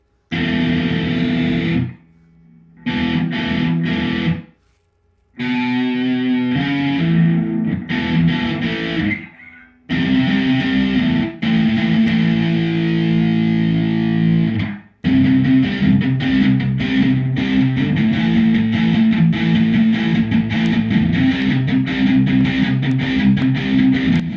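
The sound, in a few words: electric guitar with distortion, neck pickup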